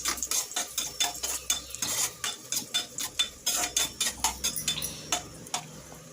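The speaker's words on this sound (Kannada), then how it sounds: "ಗೋಡಂಬಿ ದ್ರಾಕ್ಷಿ ಹಾಕಿ ಫ್ರೈ ಮಾಡ್ತಾಯಿದ್ದೀನಿ" Cashews and raisins fry in ghee in a pan while a spoon stirs them, giving close, steady, rhythmic scraping clinks against the metal several times a second over a faint sizzle, with no talking.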